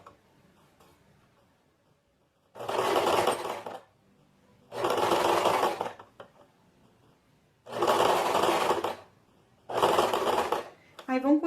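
A sewing machine stitches the hem of a short-sleeve shirt, running in four steady bursts of about one to two seconds each, separated by quiet pauses, close and fairly loud.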